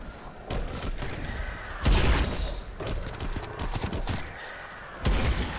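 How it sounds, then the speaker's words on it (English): Loud, booming napalm strike explosions and rumbling blasts hit in quick succession in Call of Duty: Black Ops Cold War, with sharp bursts standing out amid dense, chaotic game action. "Napalm strike tap."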